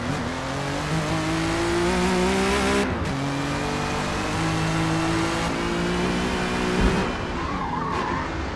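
A 1985 Buick race car with a 4.5-litre naturally aspirated V6 in Forza Motorsport, revving loudly and continuously with gear changes breaking the rising engine whine, and tires skidding near the end.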